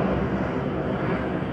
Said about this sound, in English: Hey, look, there's that plane right there.